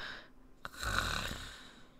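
A person imitates a snore with a single drawn-out, rasping inhaled snort near the middle, close and fairly quiet, alone without other speech.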